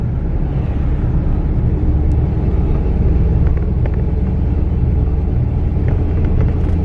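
A car with newly fitted wheel bearings drives along, its steady low road rumble and engine drone continuous and fairly loud throughout, with no talk.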